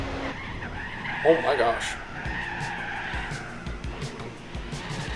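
Race car tires skid and squeal under off-throttle oversteer in Gran Turismo 4 on a speedway, a loud slide with engine noise and a brief excited voice over it.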